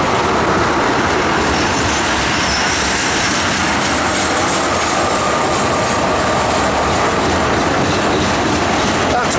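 A CSX manifest freight train led by Union Pacific AC45, SD70 and SD70M locomotives passes close and loud, throttling up. Its dense roar and rail rumble run unbroken for the whole stretch.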